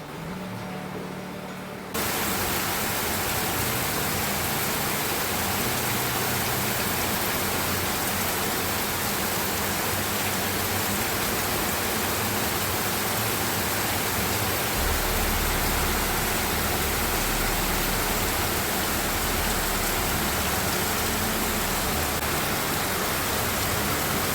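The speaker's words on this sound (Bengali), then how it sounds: "এবছর এত বৃষ্টি হচ্ছে প্রত্যেক দিন বৃষ্টি হয়ে যাচ্ছে" Steady rain falling outdoors, a dense broadband hiss that starts after a brief quieter moment and keeps on evenly, loud and continuous, with no voices.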